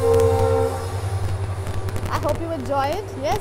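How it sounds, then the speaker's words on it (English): A cargo train passes near a hill-station home, a steady low rumble of rail cars with a rising, wavering horn tone toward the end, while someone talks over it. "So that's a cargo train."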